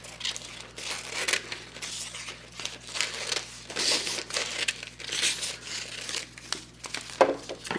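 Rough scissor cutting of fusible web for a fan quilt block, giving repeated crisp crinkling and snipping rustles at close range with no voices.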